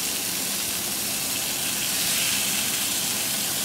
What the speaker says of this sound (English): You want to hear that nice sizzling sound.